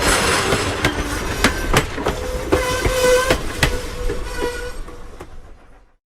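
Strasburg Railroad steam locomotive number 90, formerly Great Western, rumbles along the rails with rhythmic clicking and clacking and a brief whistle-like tone, fading out at the end.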